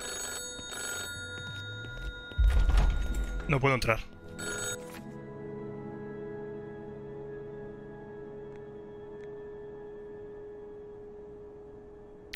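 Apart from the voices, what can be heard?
telephone ringing in video game Industria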